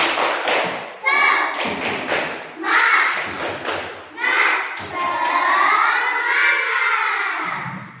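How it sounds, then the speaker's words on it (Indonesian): A school class performs a rhythmic clapping chant together, with loud, punchy claps and thumps in a patterned beat mixed with many voices chanting in unison. "Kita tepuk semangat dulu."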